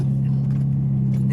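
A car engine hums steadily at low idle as the car pulls up to a detailing supply store, a close, constant drone heard beneath a voice.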